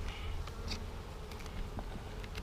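Honey bees from a package colony buzz continuously around their hive, a soft, even drone with occasional louder passes of individual bees close by.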